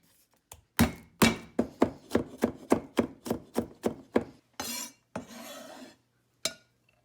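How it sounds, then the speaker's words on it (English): Ginger and garlic being minced with a knife on a cutting board: a quick series of about a dozen crisp, close chopping knocks in a steady rhythm, then a couple of scraping strokes and one last tap. "about a teaspoon of ginger. I'm going to mince it"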